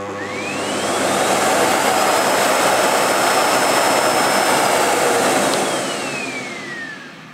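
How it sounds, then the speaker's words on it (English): A Sebo K3 Premium cylinder vacuum cleaner runs close by with a loud, steady roar and a high whine. The pitch rises as it speeds up and slides down as the suction setting changes, and the motor winds down toward the end. "So it's got a setting from naught, which is obviously the machine switched off, down to maximum."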